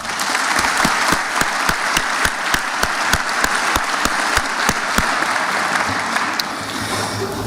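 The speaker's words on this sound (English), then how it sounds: "let's give another round of applause to Cameron and Jacob" Graduation ceremony crowd applauding two students, a loud, continuous roar of clapping punctuated by crisp, regularly spaced individual claps close by, holding steady before easing slightly at the end.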